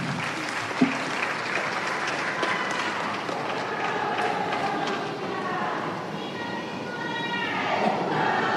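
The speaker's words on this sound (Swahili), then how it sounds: "Naomba tumpigie tena makofi Professor Janabi." Applause from the audience at an international PEN-Plus regional strategy conference, a dense, sustained wash of clapping that fills the whole stretch, with cheers and voices rising in the background toward the end.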